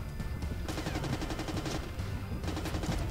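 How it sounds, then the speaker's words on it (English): Rapid bursts of automatic gunfire ring out in a Splinter Cell co-op video game match, forming a dense, continuous rattle at moderate loudness with no pause. "Move towards the gunfire."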